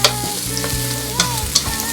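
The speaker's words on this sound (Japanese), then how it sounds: "フライパンに火をつけて油を敷いて玉ねぎを入れていきます" Onions go into hot oil in a frying pan and sizzle loudly and steadily up close, with a couple of crisp clicks from stirring.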